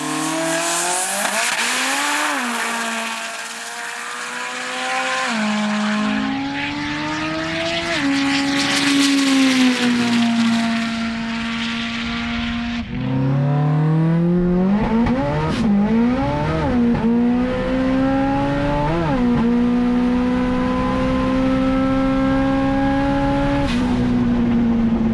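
All-wheel-drive Subaru drag car with an automatic transmission, accelerating hard down a runway at a drag battle. The engine screams loudly as it climbs through repeated gear changes, close at first and then drawing away over a long continuous run.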